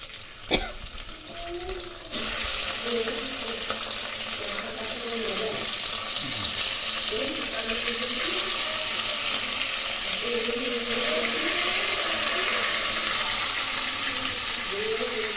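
Hilsa fish fry in oil with a steady loud crackling sizzle close by, while a voice talks quietly underneath.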